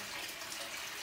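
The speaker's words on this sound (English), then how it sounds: "I'm going to add a little bit more water" Water pours steadily into a foam-free tulip flower arrangement container, a continuous soft splashing trickle, faint and close, with no talk over it.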